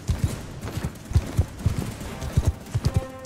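Horse galloping in Mount & Blade 2: Bannerlord, a close, loud rhythmic clip-clop of hooves beating in quick uneven groups throughout, with no voice over it.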